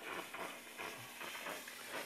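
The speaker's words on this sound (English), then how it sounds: "I pull the trigger here, and you'll see the steam come out" A VS4000C continuous flow steam machine releases a steady, soft hiss of steam from its nozzle when the trigger is pulled, faint and continuous with slight surges.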